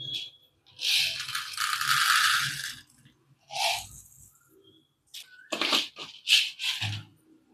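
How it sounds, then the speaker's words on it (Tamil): Black peppercorns pounded in a stone mortar for Iyer-style ven pongal: bursts of gritty crunching and rattling knocks in irregular clusters, close and fairly loud, with short silences between strikes. "இப்போ உரலில் போட்டு நம்ம இடித்து எடுத்துக்கலாம்."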